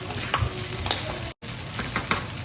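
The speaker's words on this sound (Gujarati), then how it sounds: "સોયા સોસ નાખ્યા પછી આપણે એને હલાવી લઈશું." Noodles with soy sauce being stirred in a pan make a soft steady sizzle with light scraping strokes, close and without talk, cut by a brief dropout midway.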